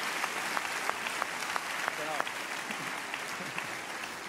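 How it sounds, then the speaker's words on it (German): Steady audience applause fills a stage show in Bern, dense broadband clapping held at an even level throughout, with a few sharper individual claps standing out and faint background voices beneath. "grossen Applaus für Dennis und Vanessa"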